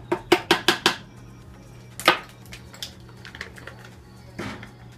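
A spoon scoops green banana flour into a collagen shake. It gives a rapid run of five light clinks against the container, then a sharper knock and a few scattered softer taps.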